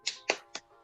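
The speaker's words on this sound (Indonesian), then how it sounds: "Biar tambah semangat, kita tepuk semangat dulu ya." A primary school class claps in a quick rhythmic spirit clap, three sharp hand claps in an uneven pattern, close and crisp in an otherwise quiet classroom.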